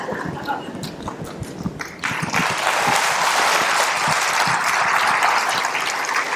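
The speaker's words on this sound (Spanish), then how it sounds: "es el primer aplauso que les arranqué" An audience at a talk by a priest bursts into applause. Scattered claps and murmurs build into loud, sustained clapping that holds steady for several seconds.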